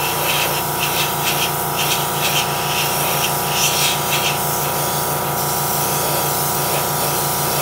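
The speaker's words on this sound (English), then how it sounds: "I see some paint coming out." An airbrush sprays paint in a steady, loud, continuous hiss with slight pulsing texture, filling the whole stretch without pause and with no talking.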